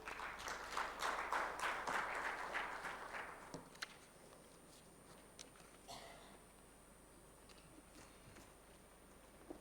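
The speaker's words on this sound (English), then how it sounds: "Can you please give him a round of applause?" Audience at a microfinance tech summit claps in a short burst of applause that quickly dies away, leaving a quiet room with a few scattered sounds.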